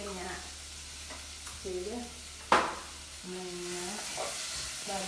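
Sardine curry with gooseberry sizzles and is stirred in a pan, a steady frying hiss with scraping stirs and one sharp clank midway, while a person talks briefly over it.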